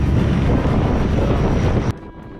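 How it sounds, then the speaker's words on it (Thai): A longtail boat runs out of Ao Sam Chong in Phang Nga, its loud engine roar blending with heavy wind buffeting the microphone. The noise drops sharply near the end. "นี่นั่งเรืออยู่เลยดิว โอ้ เป็นเรือหางยาวนะครับ"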